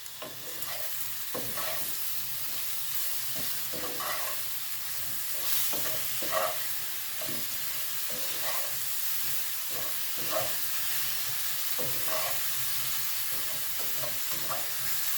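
Apple slices dusted with about two spoonfuls of sugar caramelizing in a frying pan, a steady loud sizzle throughout with periodic scraping stirs, no talking.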